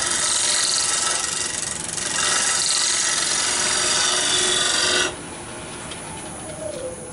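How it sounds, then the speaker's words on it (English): Shear scraping across spinning wood on a lathe gives a steady, loud rasping hiss that drops suddenly to a quieter, softer scrape partway through, with no voices. "A little bit of shear scraping just to clean it up a little bit."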